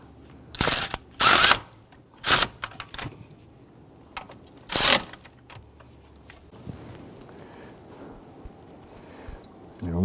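Ratchet snugging down valve cover bracket bolts on a 2007-2021 Toyota Tundra: a few short, loud bursts of close ratchet clicking spaced apart, then quieter scattered tool taps and handling noise.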